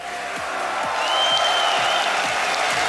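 A crowd at a DreamHack Winter 2014 Counter-Strike: Global Offensive championship cheers and claps, a broad roar of applause that swells slightly and holds steady, with no one speaking over it.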